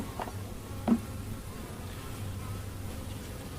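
Honey bees leaving a hive box make a low, steady drone, with a few individual bees zipping past nearby, one briefly louder as it passes close.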